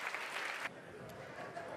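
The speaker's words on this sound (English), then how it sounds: "the well-deserved round of applause starts to come in for Leo Margetts." A burst of applause, dense and steady, from a crowd at a WSOP poker final table, with clapping that thins slightly after the first moment.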